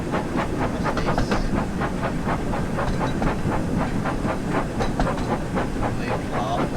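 A train in the Thomas and Friends Wonders of Sodor video game runs with a steady rhythmic clatter of wheels on track and hissing steam, loud and continuous throughout.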